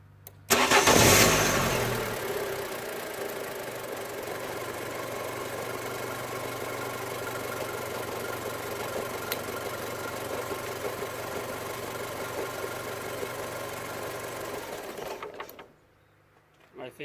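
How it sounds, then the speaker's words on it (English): A Ford Ka 1.2 with a flashing engine light after a sump replacement cranks and fires, then settles into a steady, ticking idle up close for about fourteen seconds before it cuts off. "I'm guessing if I start the engine, nothing really is going to happen, but we'll do it anyway."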